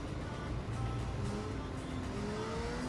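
A motorbike engine drones and revs steadily in the open-world game Saints Row The Third, a continuous close motor hum with shifting pitch over a few seconds.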